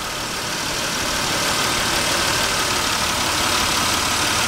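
A car engine running on a gasoline vaporizer idles in a steady, loud, unbroken rumble with a hissy, airy texture, running alone without any talking.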